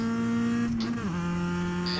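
A Mazda MX5 race car in iRacing at the Bathurst circuit, its engine holding a steady high drone that dips briefly as it shifts, then settles into a constant tone, with no talking.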